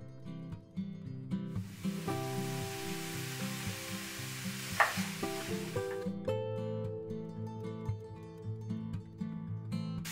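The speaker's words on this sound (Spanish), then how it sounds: "Mi cacerola ya está en la estufa a fuego medio y vamos a comenzar a cocinar con la mantequilla" Butter sizzles in a saucepan over medium heat with a steady, loud hiss that swells for several seconds and then cuts off, while background music plays throughout.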